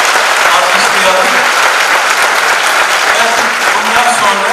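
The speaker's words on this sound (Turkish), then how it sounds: "Kocaman bir alkışlayalım." An audience at a televised cultural evening in Ordu applauds musicians with dense, loud, continuous clapping that fills the whole stretch, with no clear voices on top.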